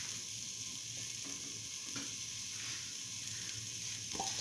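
Tomato pieces frying in a hot pan for a mint okra potato stew, giving a steady, soft sizzle and hiss that holds evenly throughout with no voices.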